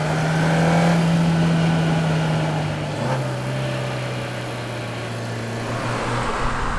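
A 2018 Suzuki Swift Sport hot hatch drives along a road, its engine note holding steady then dropping in pitch as it shifts, a loud continuous drone over road and wind noise.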